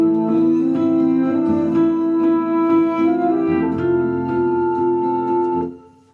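A brassy horn line plays sustained and moving notes over a steady backing track with a pulsing beat, full and continuous until a quick fade at the end.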